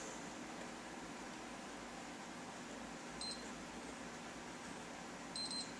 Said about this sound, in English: It's going to beep at you once.